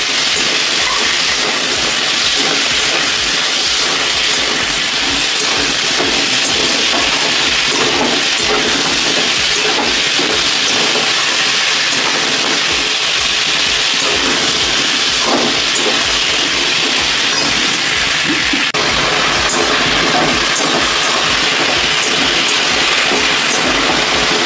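Oil and tomatoes sizzle and hiss loudly in a cooking pan, a dense continuous crackling fry close up with scattered pops throughout, no talking.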